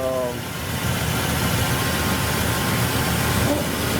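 A car engine from a Kentucky-registered Electra, recently fitted with a new water pump, idles steadily and close by, a smooth continuous rumble running without pause.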